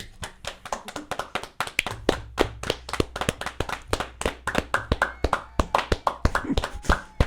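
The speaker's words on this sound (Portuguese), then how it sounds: "Bota extremamente barulho de palmas qualificado." A small group claps in a sharp, rapid, steady run of distinct hand slaps, close and crisp, with no voices over it.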